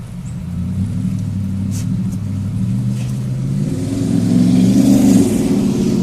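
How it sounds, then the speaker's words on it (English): A noisy car passes outside near a home, a low rumbling engine that swells and grows louder toward the end as it revs by, heard through indoor room noise with no talking. "my neighbor's noisy car."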